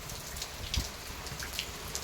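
Heavy thunderstorm rain pours steadily with dense drumming on surfaces and overflowing gutters, a continuous close wash with occasional louder spatters and thumps, no talk.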